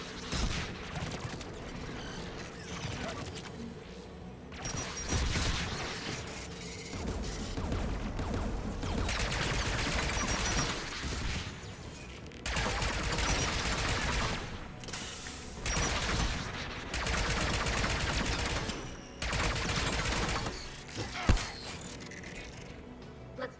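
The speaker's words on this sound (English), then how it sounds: "Geth anti-aircraft guns are up ahead." Geth anti-aircraft guns in Mass Effect fire in long, loud bursts of rapid mechanical blasts, broken by short pauses, with clanking machinery running under the barrage.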